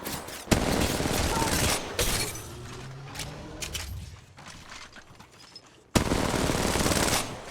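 Rapid automatic gunfire bursts in a shooter video game, loud and dense, with a brief drop near the start and a longer quieter stretch of scattered shots before a sudden loud burst returns near the end.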